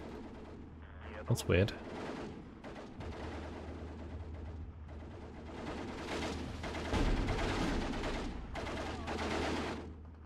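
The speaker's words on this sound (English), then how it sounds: "We do have the mortars coming in." Mortar shells land in a Steel Division 2 battle, arriving as a sharp cluster of sudden impacts followed by continuous low rumbling combat noise, with a voice speaking briefly over the din.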